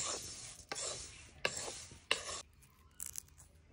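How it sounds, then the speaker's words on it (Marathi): Thick poha flakes lightly dry-roasted in a pan, giving dry rustling, scraping stirs with a few sharp knocks of a spatula, close and fairly quiet, then a quieter tail of faint clicks. "जाड पोहे घेतलेत आणि हलके मी आता भाजून घेणार आहे त्यांना"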